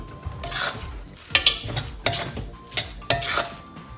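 A spoon stirs vermicelli upma in a pan, metal scraping and clinking in irregular sharp strokes over a soft background sizzle, close and fairly loud.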